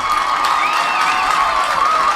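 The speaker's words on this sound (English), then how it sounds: "Ellsworth and Greely fans making their thoughts known on the call" Good-sized crowd of Ellsworth and Greely fans at Mahaney reacting to an umpire's out call at a state championship baseball game, a steady loud roar of shouting and cheering throughout.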